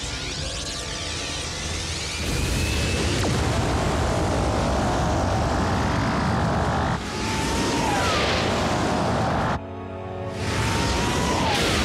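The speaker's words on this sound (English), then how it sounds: "Full thruster burn." Spacecraft thrusters fire at full burn in an animated Transformers cartoon, a loud sustained roaring rush across the whole clip that shifts in tone several times and drops out briefly near the end before surging back.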